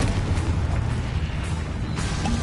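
A heavy, sustained booming rumble from a fiery blast spell in the wizarding game Hogwarts Legacy, loud and dense throughout, with low-end roar and crackling bursts layered on top.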